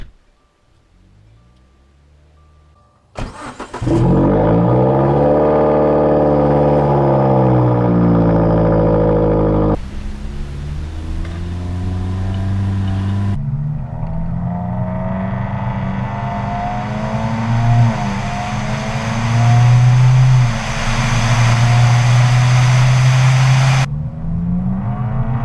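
A Subaru WRX engine pulls hard under acceleration, its loud rising drone climbing through gears with brief shift breaks, heard close from inside the car.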